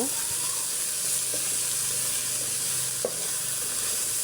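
Red amaranth greens sizzle steadily in a frying pan, with a few soft scrapes of stirring, close and alone.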